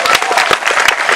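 A crowd applauding at a live event in Meru, Kenya, dense continuous clapping close by.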